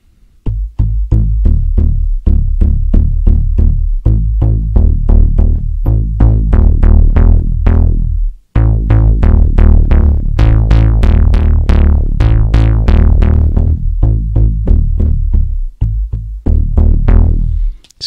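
A Yamaha RY30 drum machine run as a bass processor pumps out a loud, steady stream of punchy, rhythmic bass-heavy notes with bright attacks, pausing briefly near the middle and again near the end before carrying on.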